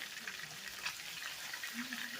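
Catfish and cod pieces fry in hot grease, giving a faint, continuous crackling sizzle that holds steady throughout.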